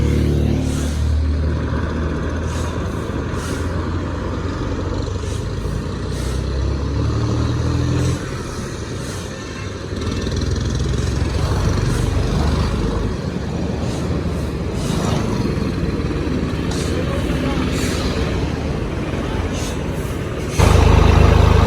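Tractor engine hauling a trolley as it turns, heard as a loud, continuous rumble that shifts in level over about twenty seconds, with faint clanks and a sudden jump in level near the end.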